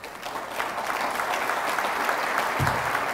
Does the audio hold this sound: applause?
yes